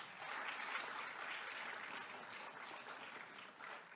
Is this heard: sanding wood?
no